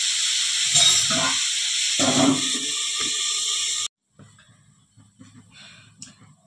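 Potatoes in hot oil give a loud, continuous hiss and sizzle up close, with faint clatter under it, before the sound cuts off sharply into quieter kitchen movements.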